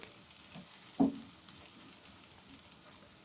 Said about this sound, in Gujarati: બંને સાઈડથી આપણે આ રીતે પલટાવી અને શેકાવા દઈશું